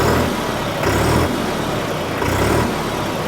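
New Holland 3630 turbocharged tractor engine idling close by, a loud, steady diesel chug with a gentle periodic throb and no voices.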